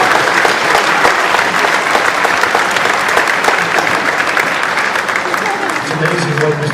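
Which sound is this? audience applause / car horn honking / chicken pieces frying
audience applause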